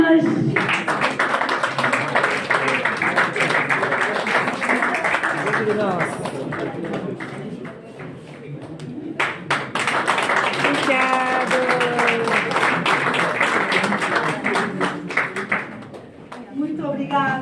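Sustained applause from an audience at a journalism diploma ceremony, steady dense clapping that briefly dips in the middle before swelling again, with voices mixed in throughout.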